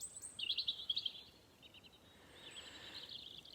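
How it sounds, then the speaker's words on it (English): Birds chirp faintly outdoors: a quick run of high trilling notes early on, then softer, thinner calls over a quiet background with no talk. "Do you hear the birds singing?"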